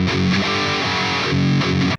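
Distorted electric guitar chugging thrash metal power chords, a loud, dense riff with repeated palm-muted hits and sustained chords that cuts off abruptly at the end, no voices.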